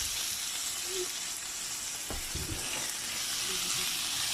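Celery hitting a hot pan while cooking Thanksgiving stuffing, giving a steady loud sizzle and hiss throughout, with a few clanks from stirring and brief faint talk.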